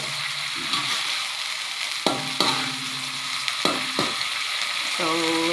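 A pot of water with clams comes back to a boil, giving a steady sizzling, bubbling hiss, faint and continuous, with a few knocks and clinks of utensils.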